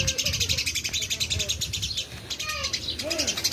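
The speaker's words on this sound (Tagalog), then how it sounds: "Marinig nyo yung ibon guys." Small birds chirp and tweet repeatedly in a rural Philippine yard near a dirty kitchen, with ducks kept nearby; bright calls come in quick bursts over a steady outdoor background, with faint distant sounds beneath.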